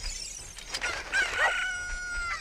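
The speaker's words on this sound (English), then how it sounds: "You see these chickens around?" Cucco chickens in the video game Zelda: Ocarina of Time, with short clucks and a bright, drawn-out crowing call rising over game background sound, close and clear.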